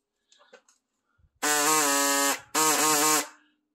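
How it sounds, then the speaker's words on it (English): A body saw, an inline reciprocating saw like a jigsaw, cuts through a weld on a VW Transporter T4 Doka, giving two loud buzzing bursts of about a second each with a brief pause between, after faint clicks. "my body saw to cut it off, just like a inline jigsaw, basically"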